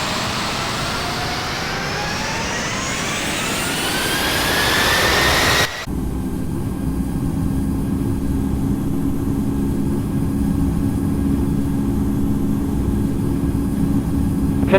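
Boeing 787-8 jet engines spooling up and roaring on the takeoff roll in the Infinite Flight video game, a loud steady rising whine that abruptly switches to a lower, constant engine drone.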